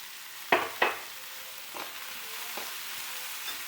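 Onions and spicy green chillies frying in a pan, giving soft sizzling with a few sharp clinks of stirring, two louder near the start and fainter ones after.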